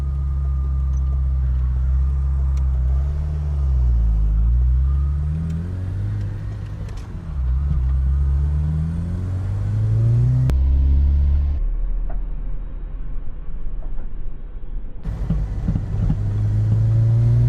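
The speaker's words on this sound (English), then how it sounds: "I got to drive a Ferrari, that's cool" A Ferrari, being rebuilt after 28 years, driving with its engine droning loud and near, rising and falling through repeated gear changes and revs over several passes, with no talk.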